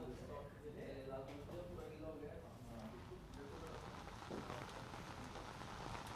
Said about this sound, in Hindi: आज दोपहर बाद से ही राजधानी जयपुर के अलग अलग इलाकों के अंदर बारिश का सिलसिला वो जारी है।